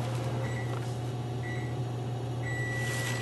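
A microwave oven runs with a steady low hum close by, with faint high tones coming and going above the drone.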